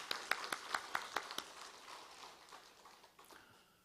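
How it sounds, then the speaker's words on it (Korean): A church congregation at a Wednesday mothers' prayer meeting claps in a short burst of sharp, evenly spaced claps. The claps are faint and distant, then thin out and trail off. "박수하겠습니다."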